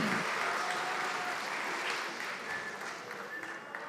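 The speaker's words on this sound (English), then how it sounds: "Let's have a big round of applause from the graduating class" Audience applause for a graduating counseling therapist class at an evening fall graduation ceremony, a dense, steady wash of many hands clapping that holds loud throughout and eases slightly toward the end.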